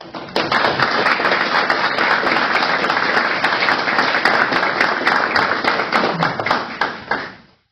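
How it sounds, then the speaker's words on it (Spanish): Audience at an academic event on naval history giving a loud, dense round of applause that holds steady for about seven seconds before quickly tapering off to silence. "para los cuales pido un fuerte aplauso"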